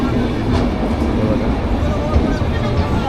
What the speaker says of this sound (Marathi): ते आता आपली ट्रेन आलेली आहे अमृत भारत एक्सप्रेस